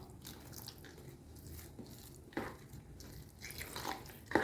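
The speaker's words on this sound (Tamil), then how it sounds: "இப்போ நம்ம இன்னும் கொஞ்சம் ஜலம் விட்டுக்கலாம்." Water poured into rava idli batter in a home kitchen, a faint, soft trickle and splashing with a few small drips, close by and without talk.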